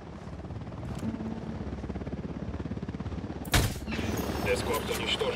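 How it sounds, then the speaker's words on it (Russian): In the video game Ghost Recon Wildlands, a helicopter's steady rotor thump approaches under bursts of machine-gun fire, with a loud sharp blast near the middle followed by continued rattling gunfire. "Сюда летит вертолет."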